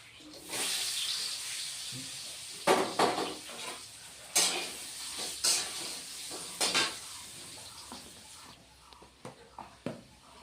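Potato pieces hiss and sizzle in hot oil as they go into the pan for a pabda fish curry, with utensils clattering and scraping in repeated bursts over a steady frying hiss.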